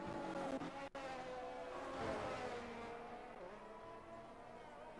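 F1 race car on an out lap in a Bahrain racing video game, a continuous engine drone at moderate distance that stays steady then slowly fades, with one brief dropout near the start.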